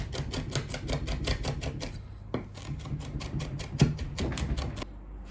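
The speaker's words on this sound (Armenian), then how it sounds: "Վերցնում ենք երկու տեսակ կանաչի, համեմ եւ մաղադանոս ու մանր կտրատում ենք։" Knife finely chopping fresh coriander and parsley on a board for chimichurri, a fast steady run of close, crisp taps with a brief pause midway, no voices.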